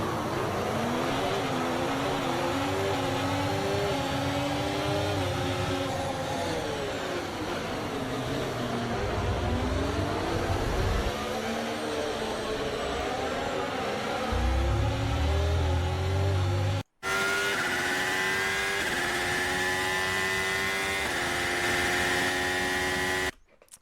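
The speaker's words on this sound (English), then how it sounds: "Wie klingt der Ferrari jetzt hier? Ferrari F1 24." A Ferrari Formula 1 car in the F1 24 racing game: a loud, continuous high-revving engine whine that rises and falls through gear changes, cut off briefly near the end before another steady, sustained run of engine tone.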